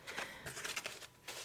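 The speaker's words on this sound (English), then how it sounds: "I'm just kind of like shuffling like this." Tarot cards are shuffled by hand, giving soft, close riffling and sliding bursts that come in uneven pulses, quiet and with no talking.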